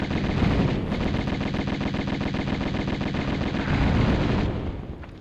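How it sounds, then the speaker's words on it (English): Rapid automatic gunfire in the video game Tomb Raider, a fast steady stream of shots lasting several seconds before cutting off, loud and close with no talk over it. "So I had guns out and shooting away"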